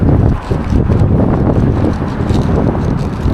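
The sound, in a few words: strong wind pulling on a kite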